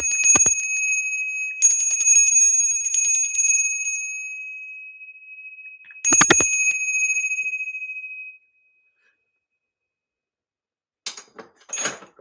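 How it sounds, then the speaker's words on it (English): A handheld bell used in exorcism rituals rings out in several bright, sustained strikes, each leaving a long shimmering decay, followed by silence and a few faint rattling jingles near the end. "The exorcism, it uses bells to chase away demons."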